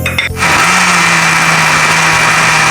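An electric kitchen grinder starts up with a rising whir and runs at a loud, steady drone while chopping garlic and ginger. A few clattering knocks come just before it starts.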